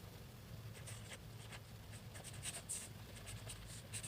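A pen writes a math solution on paper close to the microphone, with quick, light scratching strokes and taps in irregular bursts over a faint hum.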